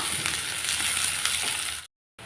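Onions and two green chilies sizzle and crackle in a hot pan for mushroom gravy, a loud, even frying hiss up close that cuts out abruptly near the end.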